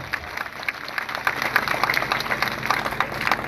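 A crowd applauds at a marathon run event, dense irregular clapping held steadily at moderate loudness throughout.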